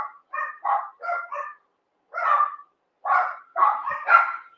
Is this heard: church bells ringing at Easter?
no